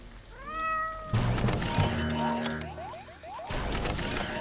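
A cat gives a clear, rising meow close by, followed by clattering mechanical thumps and ratcheting noises that run through the rest of the moment.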